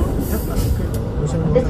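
Tokyo Yamanote Line commuter train running, a steady close rumble of wheels and cabin noise with faint murmur in the car throughout.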